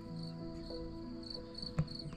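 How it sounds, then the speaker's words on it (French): Crickets in a mountain valley of the Vallée d'Aspe near the Col d'Anaye, a steady high chirring in regular pulses, soft and continuous with a brief knock near the end. "il y a des grillons aussi"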